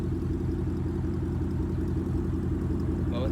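A 2012 Ford Mustang GT 5.0 V8 with a Roush axle-back exhaust idles in a deep, steady rumble at close range, loud and even with a low throbbing pulse, no voices over it.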